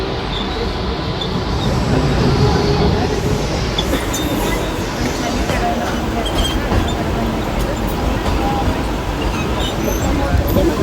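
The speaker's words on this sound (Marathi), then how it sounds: "छत्रपति शिवाजी महाराज टर्मिनस जाने वाली 12 डिब्बों की तेज लोकल है." A crowded 12-car fast Mumbai local train bound for Chhatrapati Shivaji Maharaj Terminus rattles loudly and continuously from inside, with wheel clatter, occasional squeals and murmuring passengers.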